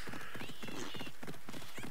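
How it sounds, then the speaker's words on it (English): A horse galloping in the video game Assassin's Creed Odyssey, with steady rhythmic hoofbeats close and loud, a neigh partway through, and no talking. "If you allow the horse to go, it will make its own way there for you."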